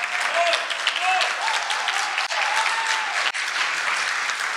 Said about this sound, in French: Qui mérite vraiment bien vos applaudissements.